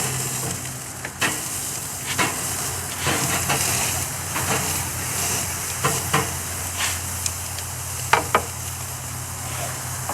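Filet mignon sizzles steadily on a PK 360 charcoal grill, a continuous close hiss and crackle broken by a few sharp scrapes and taps as the steak is flipped, with no talk.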